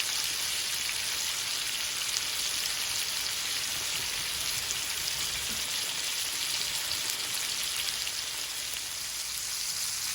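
Meat browning in a hot pan for a surf-and-turf dinner gives a steady, even, crackling sizzle that holds unbroken throughout, with no talking.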